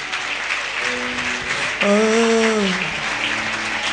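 A church congregation at a service with prophet Daniel Lual applauds and cheers for the King of Kings, a broad wash of clapping under sustained musical tones and raised voices, with a louder surge midway.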